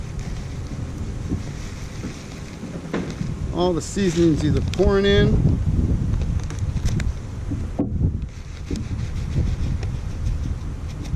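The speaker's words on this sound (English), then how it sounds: "It's too windy to put it anywhere, it'll blow away." Strong outdoor wind buffets and rumbles across the microphone as a single-pack jambalaya is cooked in a canteen cup, a constant low roar under someone talking, with a brief lull near the end.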